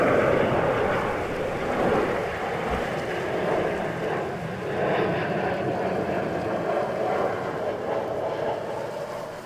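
Boeing 737 airliner arriving at Stansted Airport, a steady, broad jet roar sustained throughout at moderate distance, with no talk over it.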